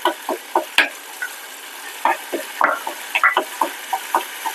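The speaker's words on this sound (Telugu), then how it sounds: "తిరగమూత గింజలు వేసాను ఫ్రెండ్స్." Tempering seeds fry in a pan with ginger paste, giving sharp, irregular pops and crackles that burst close and loud over an otherwise quiet background.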